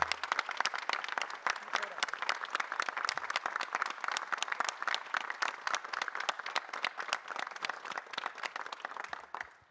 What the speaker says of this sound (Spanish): Y yo quisiera que nos pongamos de pie y le tributemos un fuerte aplauso a Rafael Correa.